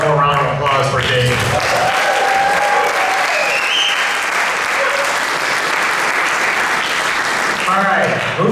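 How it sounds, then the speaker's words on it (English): A live comedy audience applauds for comedian Dave, a loud, sustained clatter of clapping that carries through the whole stretch, with a host's voice over its start and finish. "How about one more round of applause for Dave?"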